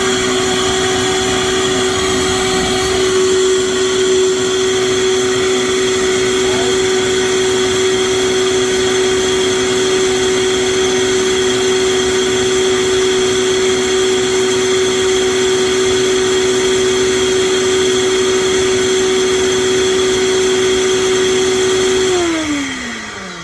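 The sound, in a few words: blender grinding mamey sapote on highest setting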